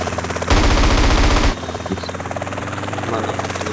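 A burst of rapid automatic gunfire lasting about a second, over a constant helicopter-like drone with game sounds around it.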